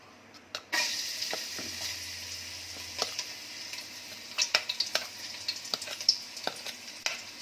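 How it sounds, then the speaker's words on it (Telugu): Finely chopped garlic frying in oil for egg fried rice, a soft steady sizzle with scattered spoon taps and scrapes that grow busier toward the end, close and fairly quiet. "ఆయిల్ వేసుకున్న తర్వాత సన్నగా తరిగి పెట్టుకున్న వెల్లుల్లి వేసుకోవాలి"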